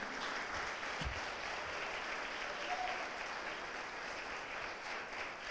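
Church congregation applauding during a Spanish-language sermon, a steady, fairly quiet wash of many hands clapping that holds evenly throughout, with no speech over it.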